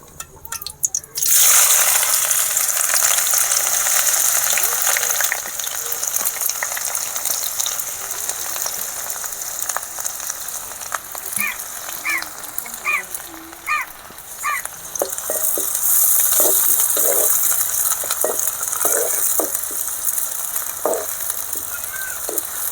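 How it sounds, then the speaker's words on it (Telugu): Finely chopped onion pieces frying in hot oil, a loud constant hiss and crackle that fills the scene, with scattered clicks of stirring and a few crow-like caws in the background. "ఎర్రగడ్డలు దోరగా వేగిపోయినాయి"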